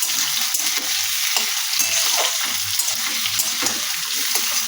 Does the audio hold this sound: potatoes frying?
yes